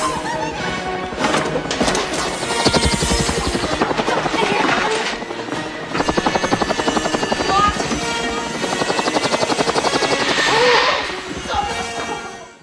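A helicopter's rotor thumps rapidly and loudly, with rushing engine noise and a few crashing bursts layered in, all fairly close and continuous.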